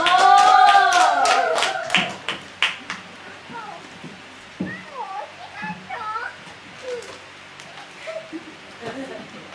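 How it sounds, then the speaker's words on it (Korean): A church camp audience gives a brief burst of clapping to welcome a speaker, loud at first and then fading into scattered claps, with talking and other voices following. "우리 박수로 환영하고"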